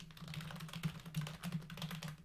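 Quick, uneven keystrokes on a computer keyboard tap out code, a close, quiet run of clicks with no talking.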